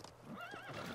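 A horse in Assassin's Creed Origins gives a loud, quavering whinny that rises and falls over about a second, standing out over steady game background noise.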